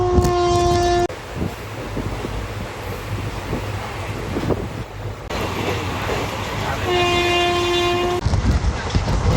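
A train pulls away from Dhola junction with a steady, close rumble of wheels and carriages, and a loud horn sounds at the start and again near the end.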